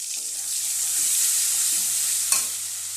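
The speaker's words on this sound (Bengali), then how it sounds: "জিরে ফোড়ন দিলাম, টমেটো দিলাম, লবণ," Cumin seeds, tomato and salt sizzle steadily in a hot pan, a constant hiss with one sharp clack of a spoon stirring near the end.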